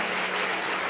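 A church congregation applauding together during a Sunday service, a steady dense wash of clapping that fills the whole short moment with no voices on top.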